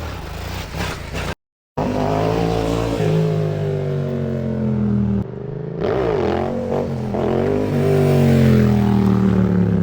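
A motorcycle engine runs loud and close, its deep droning note rising and falling as it revs, cutting out briefly near the start before surging again and building toward the end, with no voices.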